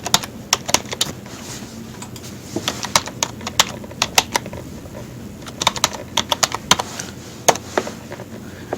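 Computer keyboard keys clatter in irregular bursts of sharp clicks, some quick runs and short pauses, close and fairly crisp with no voices.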